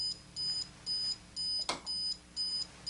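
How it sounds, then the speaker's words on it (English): A homemade burglar alarm that switches on with the room lights gives a steady run of six short, even electronic beeps, each about a quarter second long, with one sharp click partway through. "the burglar alarm's going to tell you that somebody's in there that shouldn't be in there"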